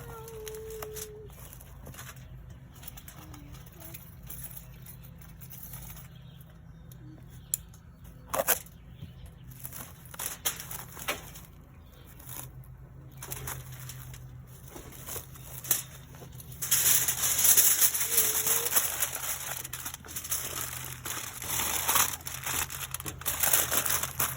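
Aluminum foil and plastic wrap crinkle and rustle as they are pulled tight around a brisket, scattered soft crackles at first, then a louder, steady stretch of close crumpling toward the end.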